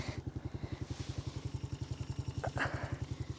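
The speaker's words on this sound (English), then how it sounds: "I'll mess up the camera so that you guys can see a few dirt bike donuts" Dirt bike engine running with a steady pulsing idle-to-rev putter, close and loud, with a brief sharper rev burst near the end during donuts; no talking.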